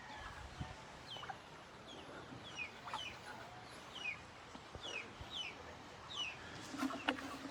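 A turkey at Hinaguan Nature Park gives a run of soft, repeated clucking calls at an uneven pace, faint and somewhat distant over a low outdoor background hiss.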